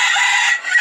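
Under a second of a fighting rooster's crow: a loud, close, sustained call that dips briefly before rising again at the end.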